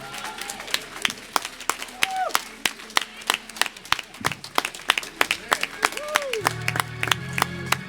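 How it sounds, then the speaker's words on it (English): A church congregation at a Sunday worship service claps hands in sharp, rhythmic beats, crisp and fairly close, while a voice speaks over the clapping and low sustained tones enter near the end. "Let's give him a hand clap of praise."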